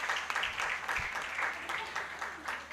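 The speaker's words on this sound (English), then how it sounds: "Surely we can give a bigger round of applause" Steady crowd applause at a live event, a dense wash of many hands clapping throughout, fairly close and even in loudness.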